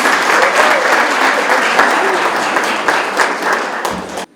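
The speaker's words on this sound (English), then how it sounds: "Let's give a round of applause to Gladys." An audience at an awards ceremony applauds loudly and steadily for several seconds, a thick wash of clapping with some crowd noise, before it cuts off abruptly.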